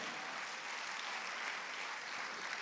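A church congregation applauds during a French-language sermon, a steady wash of clapping that stays fairly faint and even for a couple of seconds, with no voices over it.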